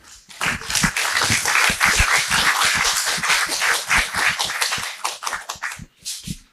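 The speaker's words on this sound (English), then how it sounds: "So please give an applause for Daniel." Audience applause following a speaker's introduction at a talk, with dense sustained clapping from a crowd that fills the room for about six seconds before tapering off, and no talking.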